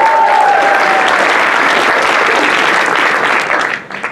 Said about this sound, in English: So can you give a round of applause for Crystal?